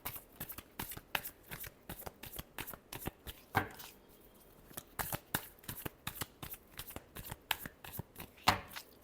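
Tarot cards are shuffled by hand up close, with dense rapid riffling snaps in bursts and a short pause midway, heard without voices.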